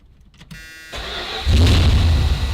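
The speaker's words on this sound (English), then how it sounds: "It's a V8, I mean it'll fire up, but it'll just be lumpy and horrible." A Dodge Monaco V8 being started after its ignition coil lead was changed, a brief starter whir cranking before the engine catches into a loud, rough, rumbling idle, close by.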